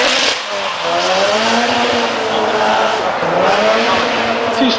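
The Acorn Infinity Motorsport S13 race car at Lydden Hill, a Nissan S13 drifting with its engine revving and rising and falling in pitch, mixed with tire squeal, loud and fairly near, with commentary talk over it.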